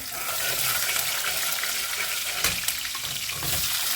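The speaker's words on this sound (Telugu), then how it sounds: "చూడండి, పచ్చిమిరపకాయలు వేసాను" Green chilies fry loudly in hot oil in a pan for a brinjal and chana dal masala curry, a dense continuous sizzle with a couple of sharp utensil scrapes as they are stirred.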